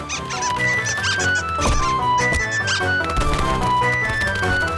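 Cartoon squirrels squeak over lively music, high chirpy squeaks bursting in repeated quick clusters alongside scattered thumps, loud and busy throughout.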